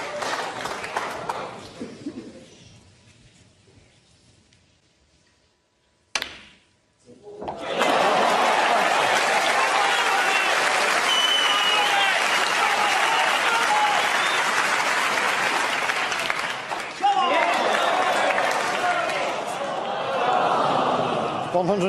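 Snooker crowd at the 2023 UK Championship final between Ronnie O'Sullivan and Ding Junhui breaks into loud, sustained applause and cheering that fills the hall, preceded by quieter murmuring and a brief hush.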